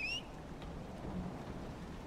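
Steady rain and low storm rumble hiss through a thunderstorm in the Dragon Age DLC The Descent, holding an even, moderately faint level for the whole stretch, with a brief high whistle at the very start and no talking.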